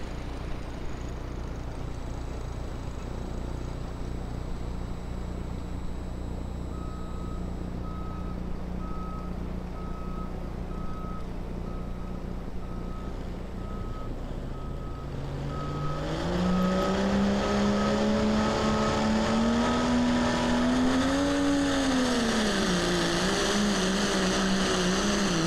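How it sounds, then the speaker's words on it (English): Kentucky Night Rider pulling truck at a Missouri State Fair truck pull idles under a repeating beep, then its engine roars up loud and near, pitch climbing and wavering under load. "this next truck ought to be the Kentucky Night Rider"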